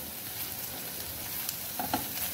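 Ginger garlic paste frying with chopped eggplant in a pan, a steady soft sizzle with faint crackles and a couple of brief stirring clinks near the end.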